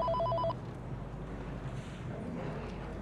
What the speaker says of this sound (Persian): ببخشید، من این تلفن رو جواب بدم.